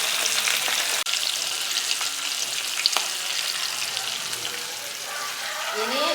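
Fish sizzles and crackles steadily in hot frying oil in a home kitchen pan, a dense close hiss with occasional sharp pops and stirring clicks throughout.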